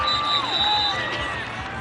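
Large stadium crowd at a Senior Bowl football game cheering and roaring steadily throughout, a dense continuous wash of voices with a PA tone faintly audible beneath.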